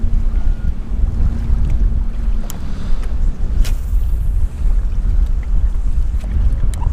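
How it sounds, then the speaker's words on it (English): Strong wind buffets the microphone at the shore during a fishing trip, a loud, continuous low rumble with faint waves beneath and no voices. "this wind is absolutely ridiculous"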